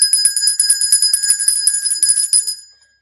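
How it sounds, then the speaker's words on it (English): A small bright bell rings in quick repeated strikes for about two and a half seconds, clear and close, then fades to silence with no talking. "Did you hear a bell ringing?"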